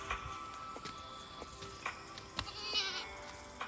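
Goats being led along a forest path to the Dahare Deurali temple during a Dashain puja bleat in short, wavering cries, several calls spaced over a faint outdoor background.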